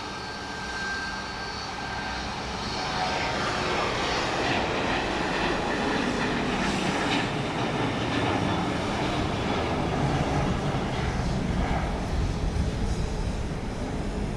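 A Boeing 737-700 jet takes off at Dallas Love Field, its engines a broad, steady roar that swells slightly and holds loud for a long stretch, heard from the airport at night.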